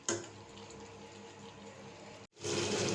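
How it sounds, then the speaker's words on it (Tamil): Water is poured from close by into a pan of cauliflower masala, a quiet steady trickle that stops abruptly, then a louder burst of liquid and stirring follows. "கொஞ்சமாக தண்ணி ஊற்றி கலந்து விட்டுட்டு"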